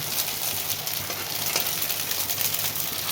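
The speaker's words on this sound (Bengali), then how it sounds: "এটা খুব অল্প তেলে ভাজতে লাগবে" Paneer fritters fry in a little hot oil in a wok, giving a steady close sizzle and crackle with occasional stirring spatters, alone without talk.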